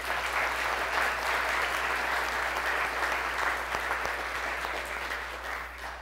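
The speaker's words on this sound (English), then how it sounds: "Let's go ahead and give them a round of applause" An audience gives a round of applause to graduates at a ceremony, steady close-packed clapping that holds level, then eases slightly toward the end over a faint low electrical hum.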